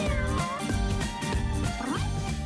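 A cat meows over a dense bed of music and other sound, its cries rising through the mix several times across a couple of seconds at moderate loudness.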